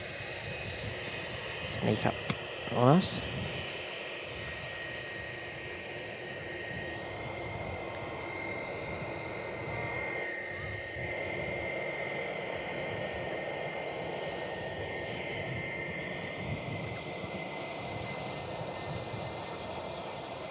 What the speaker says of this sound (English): In fact, no, we did get that private jet actually.